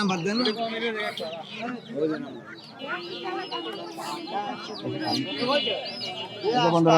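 Native roosters and hens cluck and crow in quick overlapping bursts at a crowded duck and chicken market in Kamrangirchar, with people talking nearby throughout.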